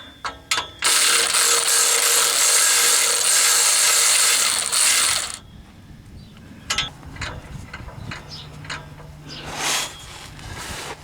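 A hand ratchet loosens engine bolts on a car during work to remove the damper pulley, giving a loud sustained burst of rapid clicking for several seconds, followed by quieter scattered metallic clicks and clanks.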